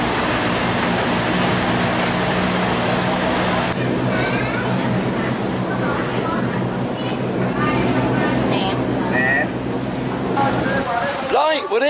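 Constant rushing wind and water noise from a moving boat heading to Koh Chang, Thailand, loud and unbroken, with faint voices in the mix.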